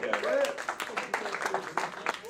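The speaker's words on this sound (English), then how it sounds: "Keep that applause going for our next poet" An audience at a poetry open mic applauds a departing poet, a steady patter of hand claps mixed with whoops and voices from the crowd, fairly close and continuous throughout.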